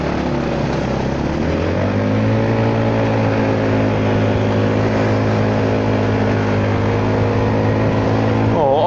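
Honda Forza 300 scooter riding with the throttle held locked, a steady engine drone rising in pitch at first and then holding level, heard close with wind noise.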